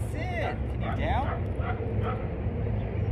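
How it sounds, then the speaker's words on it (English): A dog barking and yipping in the background, several short high yelps and whimpers at moderate distance, heard under a person talking nearby, with a low steady rumble throughout. "No, she hears that dog in the back."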